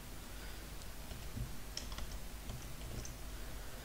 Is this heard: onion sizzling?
no